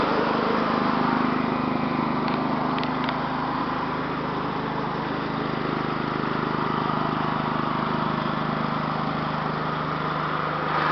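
Newgaz 5000 D-LPG/NG generator running with its cooling fan turning, a constant droning engine hum with a steady low tone, close and unchanging throughout.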